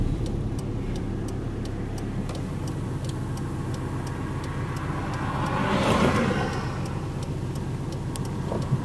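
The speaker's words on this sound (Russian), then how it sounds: "Мы разворачиваемся и едем в обратную сторону." A car turning around and driving back on a road at a give-way junction, a steady close engine hum with a faint repeating tick, the engine swelling briefly midway, no talking.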